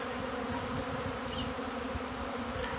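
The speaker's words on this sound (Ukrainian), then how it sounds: "Бджілка вже пішла, пішла дуже дуже, дуже потужно на обліт" Carniolan honey bees leaving an apiary hive on their spring cleansing flight fill the air with a steady, dense buzzing drone, continuous and close.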